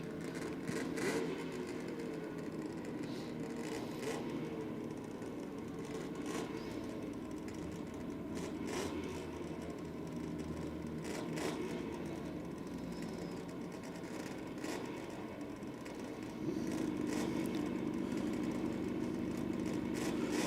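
A two-stroke engine at a night drag racing event at Sydney Dragway burbles steadily in the background, a rough low pulsing drone that swells slightly near the end.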